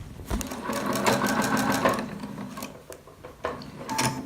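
A sewing machine stitches cotton quilt pieces together in a close, rapid mechanical whirr. The run pauses, then comes back in shorter bursts with a few clicks and fabric handling between them.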